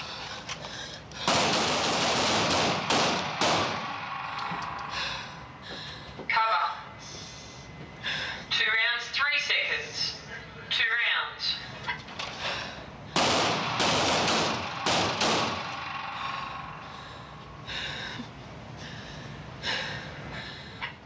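Handguns fired by police recruits on a firing range, with sharp, loud reports arriving singly and in quick pairs at irregular intervals, between heavy breathing and faint voices.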